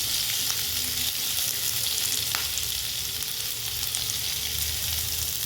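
Coriander, curry leaves and grated coconut frying in a pan, a steady close sizzle and crackle with occasional small pops, running alone throughout.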